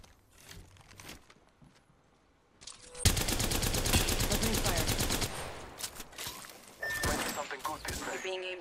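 Rapid automatic gunfire in Apex Legends, a loud sustained burst of shots followed by a second shorter burst, with footsteps and a voice talking in between.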